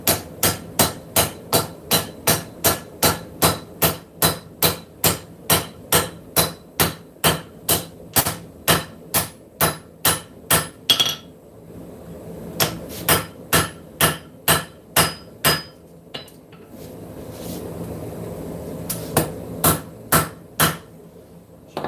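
Steady, rhythmic blows of a straight peen cross peen hammer ring out on a metal knife blade at the finger choil, pause for several seconds, then resume with a few more strikes.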